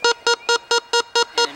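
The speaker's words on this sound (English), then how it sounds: "he has the sound source in his hand right now that we can use to locate the opposite ends of the field" A handheld sound source box used in a modified team handball game emits seven regular, evenly spaced electronic beeps, loud and close, each a short tonal burst with no speech.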